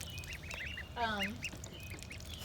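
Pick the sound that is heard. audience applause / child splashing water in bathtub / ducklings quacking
ducklings quacking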